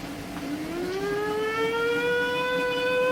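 A voice imitates a siren, a steady rising wail that climbs in pitch and holds high and loud, close by with no other sound.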